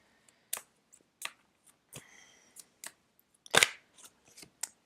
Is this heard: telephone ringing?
no